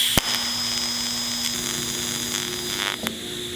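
A threaded stud is tack welded onto a thick steel plate, giving a steady, close electric crackle and buzz with a faint hum underneath. It runs unbroken for a few seconds, with small pops near the start and the end.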